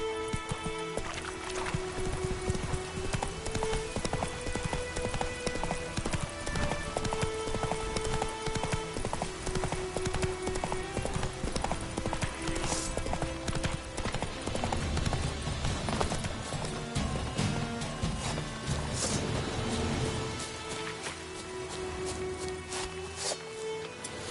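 Roach the horse gallops in The Witcher 3, a steady rhythmic clip-clop of hooves that continues throughout with game music underneath.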